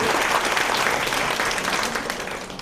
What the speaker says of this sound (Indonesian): Oke, kita tepuk tangan dulu untuk Minggu Putri.